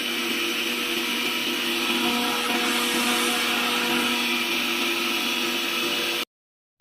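A mixer grinder runs at a continuous loud whine for several seconds with a steady motor hum, then cuts off abruptly into silence.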